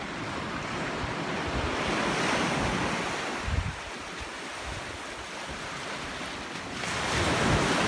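Sea waves break and wash steadily against black rocks on a coast, a continuous loud roar of surf mixed with strong wind buffeting the microphone, with no talking.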